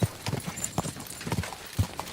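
Horse hooves clip-clop in a quick galloping rhythm as the horse Pebbles runs off in Kingdom Come Deliverance 2, with close, steady footfalls and a faint whinny.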